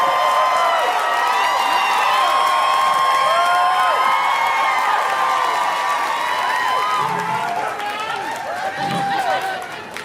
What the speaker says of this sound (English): Start clapping right now for your and my good friend, Josh Johnson, everybody